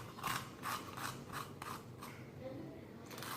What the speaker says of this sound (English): Go ahead and scrape out anything extra.